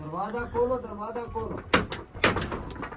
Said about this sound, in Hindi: दरवाजा तोड़ने की कोशिश कर रहे हैं